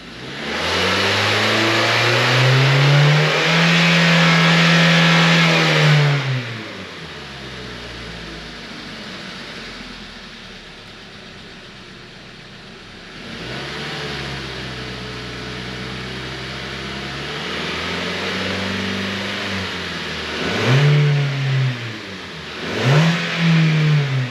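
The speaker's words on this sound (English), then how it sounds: "rev this thing up a little bit and see if it knocks" A Hyundai Tucson engine revs up and holds high for several seconds, drops back to a rough idle, then revs again in a few quick bursts, loud and close.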